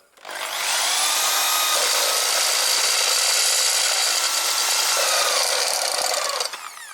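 A power drill bites into a BMW engine heat shield with a loud, harsh grinding whir that holds steady for several seconds, then cuts off abruptly, close up.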